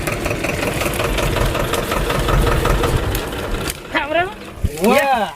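A tractor engine runs at idle with a steady low rumble and rhythmic knocking for several seconds, then cuts out as it is switched off, leaving voices talking.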